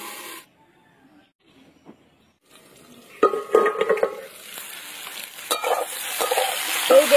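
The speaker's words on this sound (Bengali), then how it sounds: "আলু উচ্ছে ভালো করে কিন্তু একদম লাল করে ভেজে নিতে হবে।" Bitter gourd and potato pieces fry in hot oil in a pan, near-silent at first, then loud sizzling and stirring scrapes rise and keep crackling to the end.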